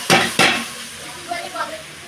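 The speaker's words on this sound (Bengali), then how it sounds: "এখন আমাদের এখানে আজকে চাউমিন রান্না হচ্ছে।" Chow mein cooking in a pan at home, two loud sharp clatters of stirring utensils against the pan at the start, then a quieter steady sizzle with faint clinks.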